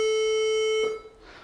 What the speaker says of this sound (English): so that's a square wave.